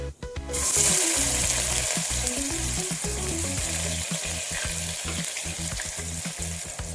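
Sharp burst of sizzling as finely chopped small onions hit a hot pan, then steady loud frying with stirring clatter throughout.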